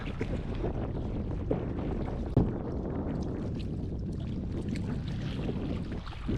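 Steady gusting wind buffeting the microphone while bass fishing from a boat, a constant low rumble with a few faint knocks and no voices.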